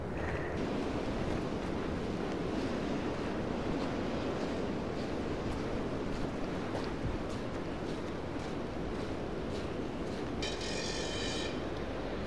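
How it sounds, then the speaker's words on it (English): Strong wind buffets the microphone on a sea wall walk by the beach between Dawlish and Dawlish Warren, a constant loud roaring rumble with surf blended in, no voices. "it's just too windy"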